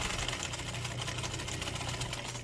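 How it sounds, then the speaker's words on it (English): A sewing machine stitches straight across the waistband of a pair of jeans being taken in, its steady mechanical whirr running continuously and close up with no pauses. "Sew straight across."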